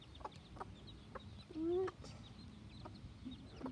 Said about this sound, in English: Five whole baby chickens. 5 whole baby chickens. And 1 mama chicken.